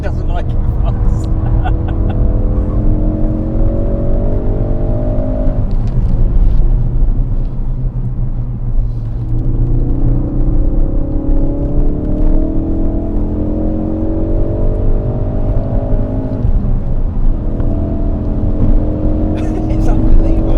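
A Ford Focus RS driven hard around the Goodwood circuit, its engine note climbing in repeated rising sweeps through the gears, loud and close from inside the cabin, with people talking over it.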